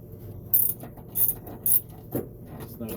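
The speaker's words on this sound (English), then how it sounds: "There's not a whole lot of space in here for the ratchet." Ratchet wrench clicking while loosening bolts in a cramped space during a radial arm saw teardown, heard as four or five short separate bursts of fast ratcheting clicks, fairly close, with no talk.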